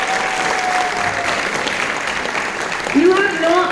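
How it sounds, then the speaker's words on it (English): Indoor audience at a game event prize giving clapping steadily in a dense, sustained round of applause, with a voice rising briefly over it near the end. "big round of applause for all of you."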